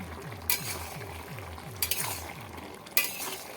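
Bottle gourd curry being stirred in a pan: a low, steady simmering bubble runs under three sharp metallic scrapes and clinks of a spoon against the pan, spaced about a second apart. No talking.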